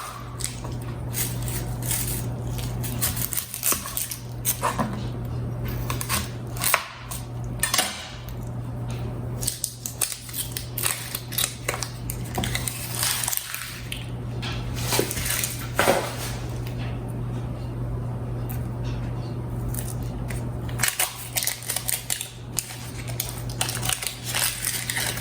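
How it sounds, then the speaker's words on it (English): A kitchen knife dices an onion on a cutting board while making stewed collard greens with ham hock, giving steady, close chopping taps and crunchy squelches over a constant low hum, with no talk. "now all I have to do is dice this onion and put it in there."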